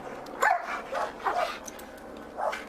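A police K-9 dog barks several times at an LAPD arrest scene, with four fairly loud barks at uneven intervals over steady outdoor background noise.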